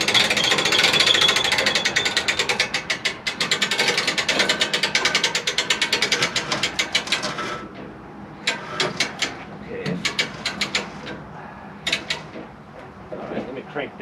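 A ratchet cranks down the ram of a clarifying tank being installed at a mill site: dense rapid clicking for about seven seconds, then slower, scattered clicks, close and fairly loud.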